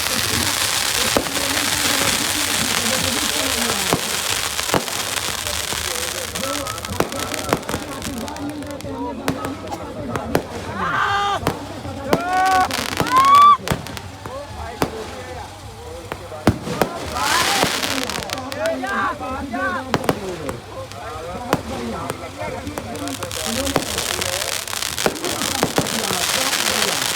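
Drone-launched fireworks at the Dewa fair, with repeated pops, crackles and bursts over a noisy outdoor crowd, some whistling rises, and people talking throughout.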